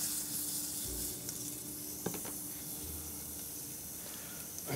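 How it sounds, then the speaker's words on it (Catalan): Food sautéing in a hot pan in a kitchen, a steady close sizzle and hiss that runs continuously, with a few small clinks and scrapes around the middle. "Això ho saltegem una miqueta, no?"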